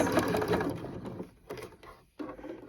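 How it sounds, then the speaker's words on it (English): A sewing machine stitching free-motion work on a robin design, running in a few short uneven bursts with brief pauses between, close and moderately loud. "now you're just going to very gently start sewing"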